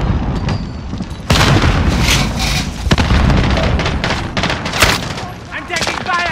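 Grenade blast in Call of Duty: Modern Warfare amid a chaotic firefight, with booming hits and bursts of gunfire layered under shouted voices.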